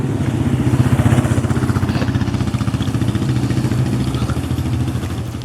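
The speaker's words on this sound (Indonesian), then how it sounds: "Ntar ada motor." A motorcycle passes close by on a quiet residential street, its engine throbbing in a steady, rapid pulse that is loudest at first and then eases slightly as it moves on.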